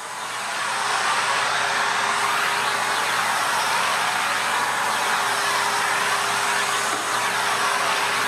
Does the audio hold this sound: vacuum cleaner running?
yes